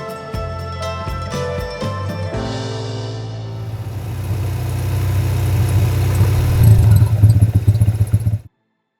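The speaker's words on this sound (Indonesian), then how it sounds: "Agak cepet aja ya kak bawa motornya." A motorcycle pulls away and accelerates with two riders aboard, the engine rising from a clattering idle to a loud, steady drone that ends abruptly.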